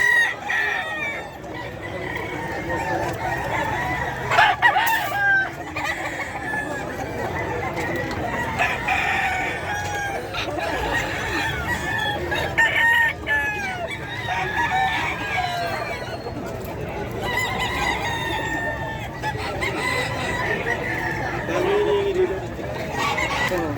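Roosters and chickens crow and cluck continuously at the busy Bocaue pet market in the Philippines, with several birds overlapping close and far amid a bustling crowd and people talking throughout.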